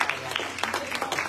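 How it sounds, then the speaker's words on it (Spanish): A church congregation claps in a brief burst of applause, dense mid-level clapping under a lingering voice, lasting about a second. "Den un aplauso al Señor."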